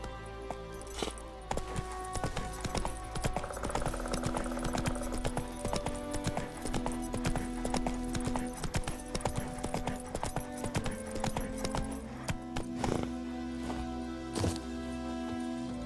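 Roach, the horse in the video game The Witcher III: Wild Hunt, trots with clear rhythmic hoof clip-clops over game music and ambience, and there is a brief whinny.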